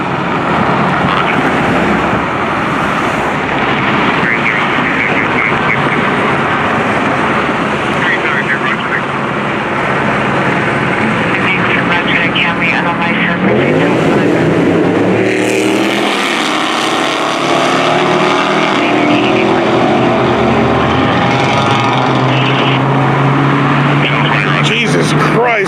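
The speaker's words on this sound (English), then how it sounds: "Jesus Christ, that car was fucking loud." A loud car roars past on a Los Angeles street at night, its engine noise swelling and sweeping by over continuous background roar while people talk.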